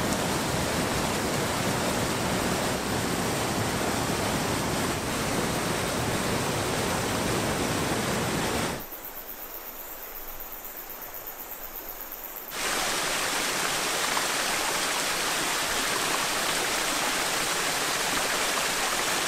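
A waterfall in Whirinaki forest, New Zealand, pours in a loud, steady roaring rush that briefly drops away to a quieter hush before returning at full force, with no voices.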